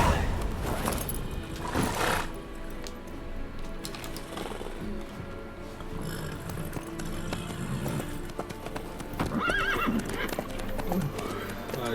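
A horse clip-clops at a trot or gallop in The Witcher 3, with rhythmic hoof beats, snorts and a whinny amid game music and ambience, fairly close and steady throughout.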